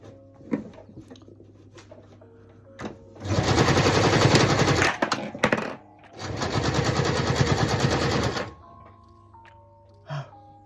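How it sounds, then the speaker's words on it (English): A sewing machine runs a zigzag stitch on a knotted headband in two loud close bursts of rapid mechanical clatter lasting a few seconds each, separated by a short pause, with light handling clicks around them. "And a zigzag stitch."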